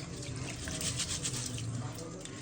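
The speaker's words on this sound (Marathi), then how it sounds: "बघू शकता मम्मीने मस्त धुवून घेत आहे तांदूळ." Rice being washed by hand in a bowl of water for biryani, with a continuous soft watery swishing and light splashing close by, under faint background voices.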